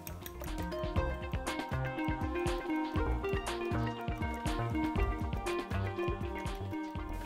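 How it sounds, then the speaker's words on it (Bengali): Three eggs are beaten for pasta in a bowl, making a fast steady run of wet clicking and sloshing strokes, close and moderately loud, with faint background hum. "পাস্তার মধ্যে তিনটা ডিম দিচ্ছি ডিমটা খুব ভালোমতো ফেটে নিতে হবে"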